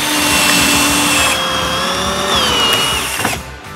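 A power drill with a magnetic screwdriver bit holder drives a screwdriver bit into a small piece of wood, a loud, steady whine that shifts in pitch as the screw bites, then cuts off near the end.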